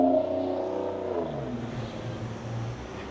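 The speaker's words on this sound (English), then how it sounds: "Loud cars again." Cars pass by on a road near a Tesla Supercharger, a steady engine rumble and whoosh that swells and fades over a few seconds, fairly loud with no talk.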